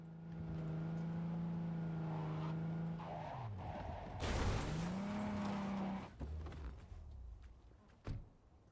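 A car in Cyberpunk 2077 drives with a steady droning engine tone, then its pitch drops and tires squeal and skid in a noisy burst before it settles. Brief thumps follow near the end, with no talk.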